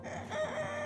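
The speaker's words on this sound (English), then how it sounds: "Now, I think that George and Jerry are trying to tell the hens to get inside." A rooster gives a short, faint crowing call to hens, brief and somewhat distant, with no other sounds around it.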